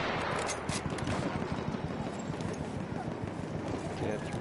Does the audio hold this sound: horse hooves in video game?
yes